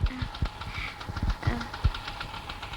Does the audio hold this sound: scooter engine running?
yes